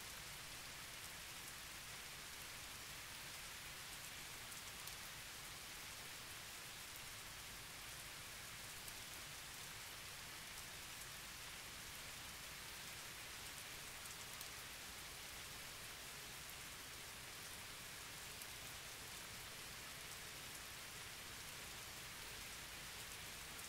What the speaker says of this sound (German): da ist Regen.